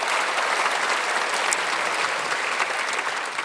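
A church congregation claps together during a Sunday worship service, steady dense applause filling the room for the whole stretch without a break.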